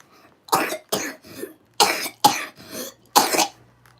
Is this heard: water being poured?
no